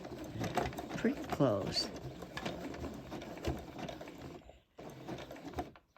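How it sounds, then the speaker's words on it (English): A sewing machine stitches two strips of rope together for a rope trivet, its mechanical whir and clatter running steadily beneath close talk, with a short pause near the end before it resumes. "So it's sewing 2 strips together."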